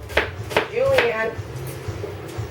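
A knife julienning onion on a cutting board gives a few sharp, separate chops, close and fairly loud, with a short scrape in between, heard alongside a turkey brine being made.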